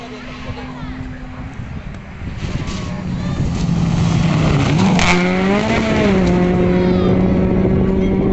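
A rally car at the 2023 Rally de Estação stage in Rio Grande do Sul, Brazil, approaches and jumps, its engine swelling loud and near as revs climb and hold high.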